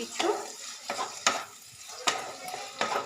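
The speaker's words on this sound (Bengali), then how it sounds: "টমেটোটা যতক্ষণ পর্যন্ত না নরম হচ্ছে পুরোপুরি ততক্ষণ আমি এটাকে নাড়াচাড়া করব" Chopped tomatoes stirred and fried in a pan in a village kitchen, with a spoon scraping the pan in a few distinct strokes over a soft sizzle, close and moderately loud, no talk.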